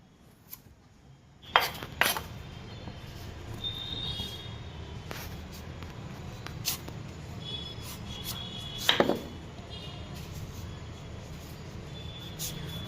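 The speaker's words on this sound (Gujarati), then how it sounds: "પહેલાં પપૈયાને આપણે ફાડાની સાલ ઉતારી નાખીએ" A knife peels the skin off a papaya for sambharo in a quiet kitchen, with sparse scraping strokes and a few sharper knocks and clicks near the start and again later.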